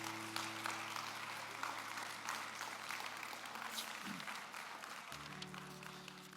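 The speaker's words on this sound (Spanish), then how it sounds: "Dame un aplauso al Señor, hermano." A church congregation gives a round of applause to the Lord after a prayer, dense crowd clapping throughout with a low sustained tone of music or organ hum beneath, shifting pitch partway through.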